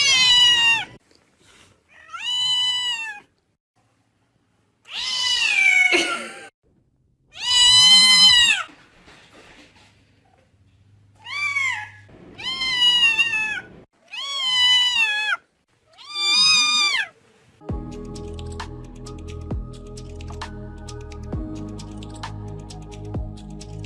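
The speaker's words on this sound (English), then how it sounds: "This cat is completely deaf, so she's always surprised when her owner greets her." A deaf cat gives a series of loud, drawn-out, wavering meows close up, about seven calls separated by pauses, followed by a stretch of soft music.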